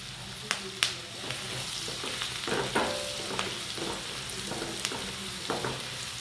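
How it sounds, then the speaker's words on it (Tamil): Finely chopped onions fry in a little oil in a hot kadai for an egg masala, giving a steady soft sizzle with a few sharp stirring clicks and scrapes. "கடாய் சூடானோடனே கொஞ்சமாக பொடியாக கட் பண்ணி வச்சுருக்க வெங்காயத்தை சேர்த்துக்குங்க."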